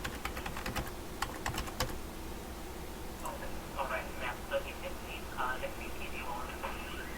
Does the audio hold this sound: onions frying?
no